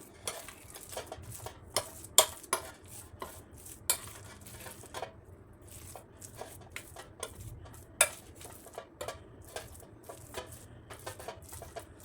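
A spoon clinks and scrapes steadily against a bowl while kohlrabi bhaji batter with added soda is stirred, in an irregular but continuous rhythm of close, light taps, with no talk.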